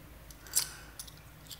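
Keys with a metal dog tag are drawn from a pocket, giving a few faint, brief metallic clinks and jingles spaced apart against quiet room noise.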